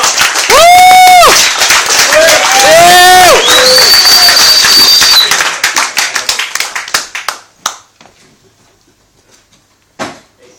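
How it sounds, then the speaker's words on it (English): Comedy club audience clapping for a stand-up comedian: a burst of claps with whoops and loud vocal shouts up front, tapering into scattered individual claps that fade out toward the end. "So please, for the last of the night, start clapping."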